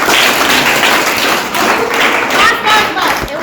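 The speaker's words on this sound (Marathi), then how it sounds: "टाळ्या वाजवा त्याच्यासाठी" School students in a high school gathering clap together, producing a dense, steady patter of applause with voices mixed in throughout.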